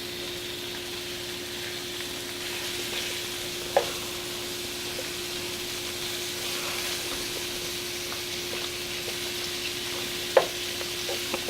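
Sausage frying in oil in a pan for jambalaya, giving a steady, soft sizzle throughout with a constant low hum and a couple of brief sharp clicks, with no voices.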